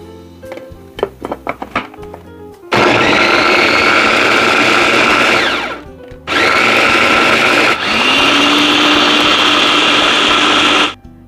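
A kitchen blender grinds red shallots, curly red chilies, large red chilies and spices with a little water, starting after a few light clicks and running in three loud, steady whirring bursts separated by brief stops, close and alone.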